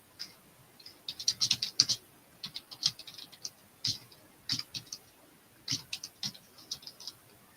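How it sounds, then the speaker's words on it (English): Close, quiet clatter of a computer keyboard being typed on in irregular bursts, with short pauses between runs of keystrokes. "just typing, I do apologise."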